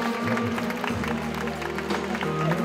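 An audience at the Reine des Nieulles pageant election applauds the newly crowned queen, a crowd's continuous clapping blended with music, a steady hum and background voices.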